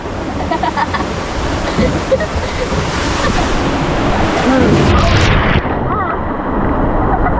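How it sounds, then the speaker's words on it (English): A loud, steady rushing roar of a waterfall nearby on the Rio Loco water ride at SeaWorld San Antonio, a continuous wash of falling water with faint voices mixed in. "Oh, there's the waterfall."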